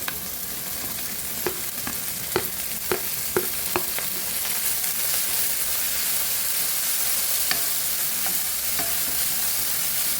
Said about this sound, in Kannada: ಇವಾಗ ಮೆಂತ್ಯ ಸೊಪ್ಪನ್ನು ಹಾಕ್ತಾ ಇದ್ದೀನಿ